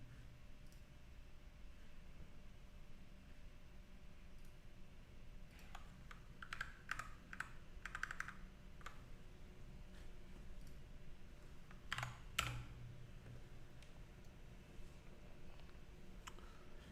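Computer keys clatter in bursts of quick clicks close to a microphone positioned just above the keyboard, with pauses between flurries of typing over a quiet hiss of room noise.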